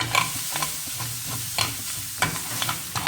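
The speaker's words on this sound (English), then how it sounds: "reduce the flame to low and then mix nicely so that all the flavors are infused well in the fish pieces" Shredded fish being stir-fried in a pan over a low flame, a steady sizzle broken by several sharp scrapes and clinks of the spatula turning the pieces, close and fairly loud with no talking.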